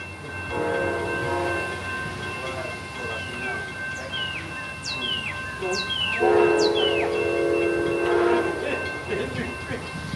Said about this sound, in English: starting off with Amtrak PO41 running a few hours late with a P42 DC in the lead